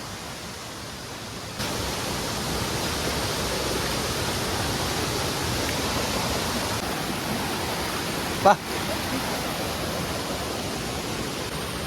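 Continuous roar of a waterfall, loud and steady broadband rushing that swells slightly after the first second or so, with a brief knock partway through and no clear talking.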